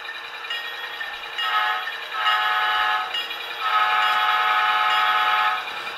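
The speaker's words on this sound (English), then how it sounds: "the very famous sound of the air compressor, and those are all, that's part of the whole modern decoder" A sound decoder in a model SOO MP15AC or P42 locomotive plays a loud, steady horn-like tone that swells in several bursts. It stands alone with no talk.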